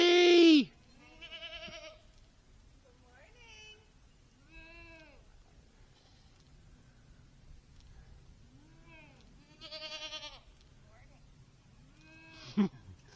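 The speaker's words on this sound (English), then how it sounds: "Farm wife's out getting ready to take care of the goats. They're calling for you, babe." Goats on a snowy farm bleat repeatedly, several drawn-out calls spaced a few seconds apart, moderately distant with one louder burst at the start and quiet between calls.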